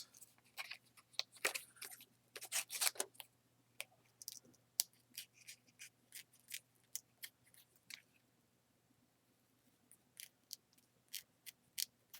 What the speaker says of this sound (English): I'm just going to cut around this.